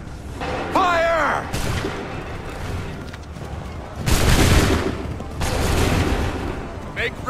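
Musket volleys crack out in Assassin's Creed III, two heavy rolling bursts of massed fire after a shouted command, with voices and battlefield noise around them.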